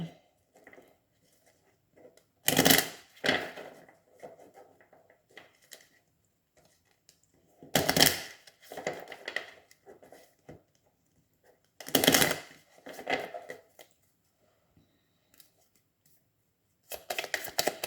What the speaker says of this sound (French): Je vais tirer une autre carte avec l'algariel qui serait une carte de conseil à suivre.